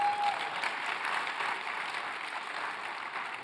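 An audience claps steadily at a talk with Don Peebles, a dense even applause that holds at a constant level throughout, with no voices.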